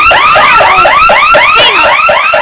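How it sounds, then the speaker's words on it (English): A security alarm wails continuously at close range, loud repeated rising electronic sweeps filling the whole stretch with no pauses. "That's your alarm."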